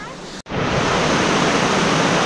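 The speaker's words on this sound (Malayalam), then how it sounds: "ശബ്ദം കേൾക്കുന്നുണ്ടെന്നറിയില്ല, വെള്ളച്ചാട്ടത്തിൻ്റെ ശബ്ദമാണ്." A waterfall near a base camp on the Valley of Flowers trek gives a loud, steady roaring rush that continues after a brief cut near the start.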